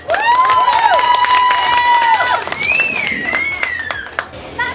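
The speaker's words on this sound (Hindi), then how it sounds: "मगर आपकी तालियों में भी थोड़ा जोर होना चाहिए" An audience claps in a rhythmic patter at a Sunder Kand and sangeet function, the claps running beneath a loud, gliding melodic voice.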